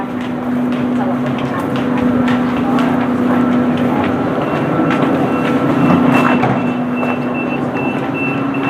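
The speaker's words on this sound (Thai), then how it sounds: "เรานั่งรถไฟนะครับ จากเอดิเลดนะครับ" A passenger train out of Adelaide rumbles steadily from inside the carriage, with a constant low drone, a faint tonal hum and occasional rattles, and no talk.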